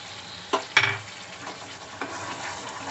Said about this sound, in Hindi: अभी इस स्टेज में हम एक मीडियम साइज के टमाटर को डाल देंगे